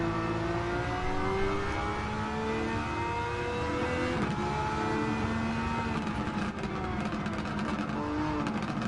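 A raspy naturally aspirated race car engine revs hard in a racing video game, its pitch climbing and shifting through gears in a loud, continuous drone with no talking.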